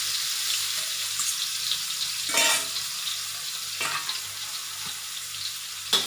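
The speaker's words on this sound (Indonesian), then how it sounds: "Kita gorengkan lah semua." Ingredients for kangkong with salted egg frying in hot oil, a steady loud sizzle running throughout with a few brief louder bursts as food is stirred or added.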